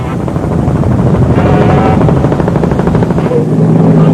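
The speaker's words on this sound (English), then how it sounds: "Deventer looks as cameraman Johan Dierhoff leans out of the helicopter and zooms in for a tight shot." A helicopter roars close by over an off-road race, its rotor chopping steadily under a loud, continuous engine drone.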